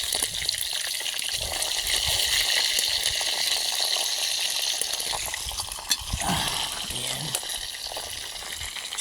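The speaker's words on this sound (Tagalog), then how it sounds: "ito po aking piniprito mga Lods. Ayan mga Lods, ang aking pritong isda" Galunggong fish fry in hot oil in a pan with a loud, steady sizzle and crackle that fills the whole stretch, with occasional pops and bubbling spurts.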